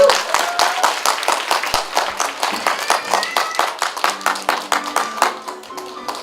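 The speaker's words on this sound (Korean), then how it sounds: "가장 뜨거운 박수로 맞이해 주시기를 바랍니다" A memorial gathering audience for the Sewol ferry 4.16 solidarity group gives a round of clapping, individual claps distinct and fairly sparse, a steady patter over six seconds with no voices.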